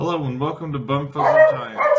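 A small dog yips and barks in short bursts right beside a person who is speaking indoors, the barks overlapping the voice.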